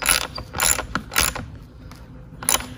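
Ratcheting clicks from a wrench tightening a seat bolt on a Venom Motorsports 125cc mini jeep, heard as four short bursts of close mechanical clatter separated by brief pauses.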